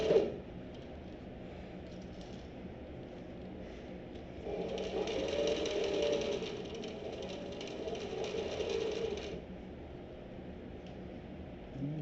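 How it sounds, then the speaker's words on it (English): Sewing machine stitching a seam on a messenger bag, a faint steady mechanical whir that swells into a denser running burst for several seconds in the middle before easing back, with no talking. "hopefully we can make another dozen stitches and be done"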